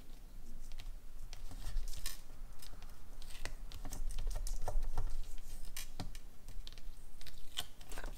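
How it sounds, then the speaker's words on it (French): Double-sided tape having its protective film peeled off while a scrapbooking card is assembled: a run of dense crackly rips and papery clicks, close and fairly steady, with no talking. "on enlève la pellicule"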